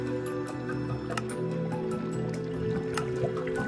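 Water trickles and drips steadily in a Minecraft skyblock world near lava, a continuous liquid burble with small splashy ticks and no talking over it.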